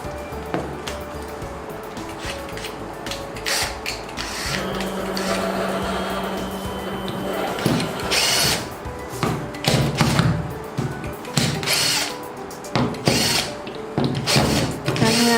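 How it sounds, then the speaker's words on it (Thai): CNC machine cutting a 5 mm black acrylic sheet, a busy stream of mechanical whirring, grinding and clattering with sharp repeated bursts and a brief steady motor tone midway, close and fairly loud. "การทำงานวันนี้ก็คือตัดแผ่นอะคริลิกสีดำ5 มิลนะคะให้เหลือแต่กรอบค่ะเจาะสี่เหลี่ยมด้านในออกนะคะ"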